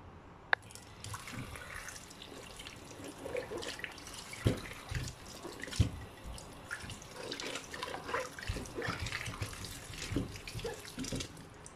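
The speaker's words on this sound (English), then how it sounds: "So I'm going to wash and cut these brinjals." Brinjals being rinsed under a running kitchen tap in a sink, a steady close splash of flowing water with occasional drips and knocks of the vegetables against the basin, no talking.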